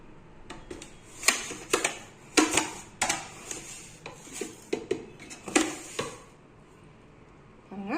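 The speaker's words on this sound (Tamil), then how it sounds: "ஒன்றரை கப்பு சர்க்கரை சேர்த்து நம்ம அதை கிளறணும்" A spoon stirring sugar into a coconut milk and cornflour sweet in a pan, repeated close scraping and clinking of metal against the pan in an uneven rhythm, then a short lull before another scrape.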